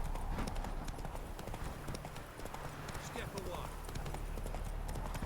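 Rapid clip-clop of a horse's hooves galloping in The Witcher 3 video game, steady and fairly loud throughout, with someone talking over it and a dense game soundscape beneath.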